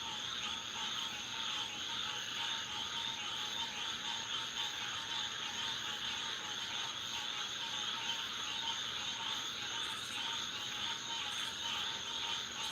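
A dense chorus of frogs croaks steadily outdoors at night, a continuous high trilling wash with no pauses, moderately distant and even in level throughout.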